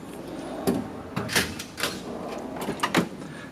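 Snap-on Master Series toolbox drawers in a home garage slide open and shut several times, giving short metallic rattles and clunks spaced irregularly and heard up close.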